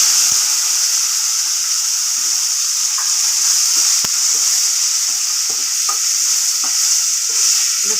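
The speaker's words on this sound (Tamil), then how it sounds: "இப்போ எண்ணெயிலே பொரிச்சிடணும்" Shallots, garlic, tomatoes and curry leaves frying in hot oil, giving a steady loud hiss with scattered soft stirring scrapes and small pops throughout and no voice.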